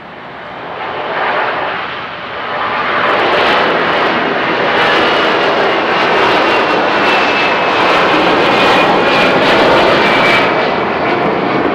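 Delta Boeing 757 jet taking off from runway 02, a loud, sustained engine roar that swells within the first seconds and holds steady and powerful to the end, with no voices.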